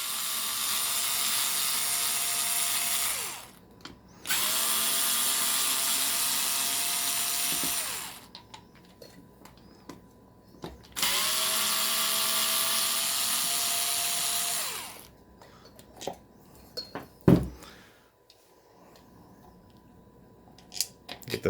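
A power driver whirs in three long bursts, removing Phillips head screws from a Porter-Cable/Rockwell 330 Speed Bloc sander, followed by scattered clicks and clatter of parts.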